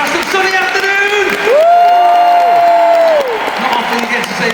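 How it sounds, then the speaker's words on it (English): An arena audience in Manchester applauds the UK touring cast of Sunny Afternoon, with crowd cheering and whoops rising, while a voice carries over the noise in the middle. "let's have a big round of applause, everybody."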